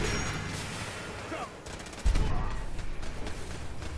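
Gunfire in the video game Fallout 4: rapid bursts of shots that break into a loud sustained volley partway through, with other game sounds and faint voices underneath.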